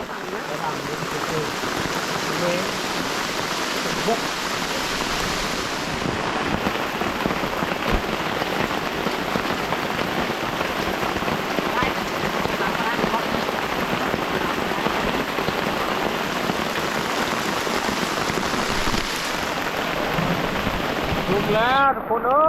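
Heavy rain pours steadily in a forest, a dense continuous hiss of drops on surfaces that carries on throughout. Faint voices mix in, and a short chirping call sounds at the very end.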